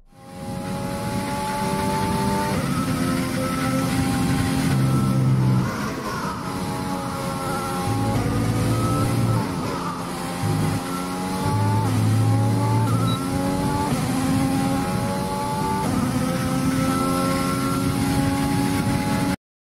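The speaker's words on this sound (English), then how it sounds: "get you familiar with this track" A race car laps the Red Bull Ring in Austria in a racing video game, its engine screaming loud and close, pitch climbing through the gears and dropping on downshifts, with brief tire squeals and no talking.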